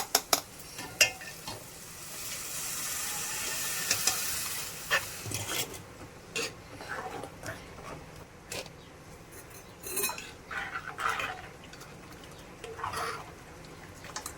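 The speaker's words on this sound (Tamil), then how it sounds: "முட்டை குழம்புக்கு அந்த மசாலா ஊற்றிக்கிறோம்" Ground masala is poured into a pot of egg curry, which sizzles and bubbles while a utensil clinks and scrapes against the metal, with sharp knocks scattered throughout at close range and no speech.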